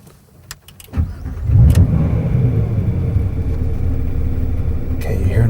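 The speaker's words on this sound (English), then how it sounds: "When I start it, well, listen." A Porsche 911R engine cranks and fires after a few clicks, then settles into a loud, steady idle close by.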